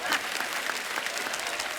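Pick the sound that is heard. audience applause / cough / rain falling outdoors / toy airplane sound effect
audience applause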